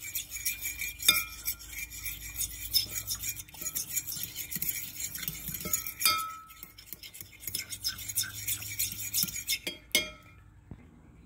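Salad dressing and ingredients being mixed in a bowl: soft steady stirring and clinking of a utensil against the dish, with occasional sharper taps, close and fairly quiet.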